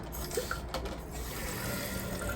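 A toilet tank refills with water after the fill valve is turned up, making a soft, steady rush of running water heard close and continuous, with a faint clink near the start.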